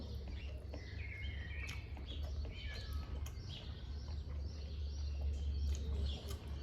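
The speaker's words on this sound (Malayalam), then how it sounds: "ഇങ്ങനെ നാട്ടിൻപുറ സൗണ്ടുകളും പിന്നെ ചിവീടുകളും ഇങ്ങനത്തെ കുരുവി ഇങ്ങനത്തെ സാധനങ്ങളൊക്കെ." Countryside ambience from a paddy field, with scattered sparrow chirps and bird calls over a low, steady background hum, faint and somewhat distant, with no talking.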